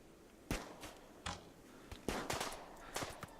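Gunshots in the RimWorld video game, a handful of faint, sharp cracks spaced irregularly over a few seconds, some in quick pairs, heard alone at low volume.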